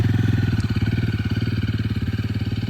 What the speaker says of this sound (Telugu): స్టార్ట్ చేస్తాను, చూద్దాం ఎలా ఉందో పర్ఫార్మెన్స్ మరి.